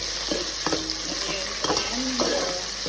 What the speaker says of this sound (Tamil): டொமேட்டோஸ் நல்லா ஃப்ரை ஆகிடுச்சு